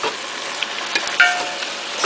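Collard greens tossed and stirred in a pot while cooking, a soft steady sizzle and faint rustle with a few light clinks, no talking.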